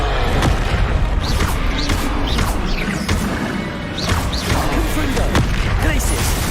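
The Expelliarmus spell effect in Hogwarts Legacy plays amid loud booming, crashing impacts and whooshing magic blasts, with rapid repeated hits in dense combat.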